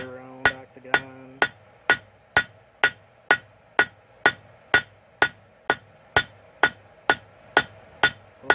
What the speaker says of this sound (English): Forge taper on the end.